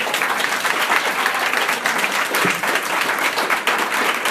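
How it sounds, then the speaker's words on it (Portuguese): A church congregation breaks into loud, sustained applause for Jesus during a sermon, a dense continuous wash of many hands clapping throughout, with no other sound on top. "Você pode dar uma salva de palmas ao Senhor Jesus?"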